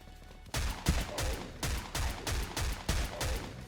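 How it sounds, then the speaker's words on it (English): Pistol shots fired in the video game Dead Frontier, eight sharp, evenly spaced reports in a steady rhythm, loud and close with no talk over them. "let's try out these pistols"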